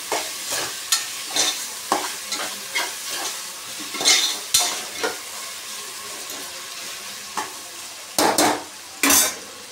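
Tomatoes fry in a pan with salt added, giving a soft sizzle under repeated scraping strokes of a spoon, irregular and close, with a few sharper clinks against the pan.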